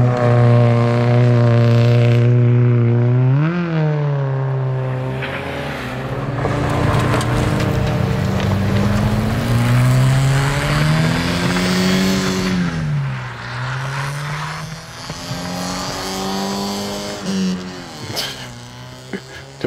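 A Subaru Impreza 2.0R engine drones while driving on snow, a close, buzzy hum that rises and falls with revs and shifts over about twenty seconds, settling quieter toward the end.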